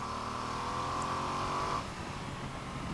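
Ducati Multistrada V2S 2025 motorcycle engine pulling hard after a quick-shifter upshift, a steady loud rising drone that cuts off abruptly partway through, leaving a rougher lower rumble.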